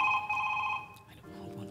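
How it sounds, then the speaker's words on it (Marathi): A phone rings indoors with a steady electronic ringtone tone for under a second, then fades into quieter room noise with faint background voices. "तुझा फोन वाजतोय, उठ."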